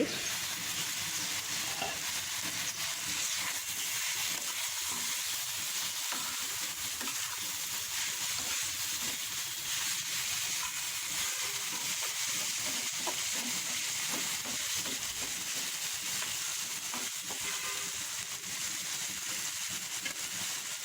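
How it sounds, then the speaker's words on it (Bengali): Food frying in a pan is stirred continuously, a dense, even sizzle with faint scraping underneath that holds steady for the whole stretch without any talking. "আবার নাড়াচাড়া করে দিচ্ছি"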